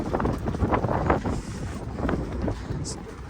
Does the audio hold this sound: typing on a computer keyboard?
no